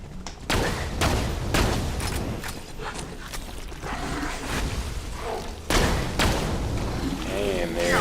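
Pacifying Terror burst-fire gun in Borderlands 2 firing repeated short bursts of sharp cracks and thumps, close and loud, mixed with other game effects.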